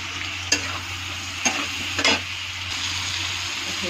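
Eggs with turmeric and salt fry in a pan, sizzling steadily and loudly while a spoon scrapes and stirs in a few distinct strokes, close by, no voices.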